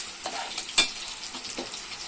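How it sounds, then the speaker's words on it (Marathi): Ground coconut paste is stirred and fried with spices in a pan: a soft, continuous sizzle broken by irregular scrapes of the spatula, with one sharper scrape standing out. "हे आहे खोबऱ्याचं वाटण, मिक्स करून घ्या, चांगलं परतून घ्यायचं आहे"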